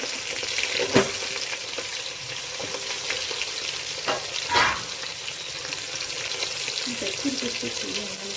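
Onions, bottle gourd and drumstick pieces fry in a pan for a wedding-style dalcha, giving a continuous close sizzle with a few louder clattering stirs and scrapes.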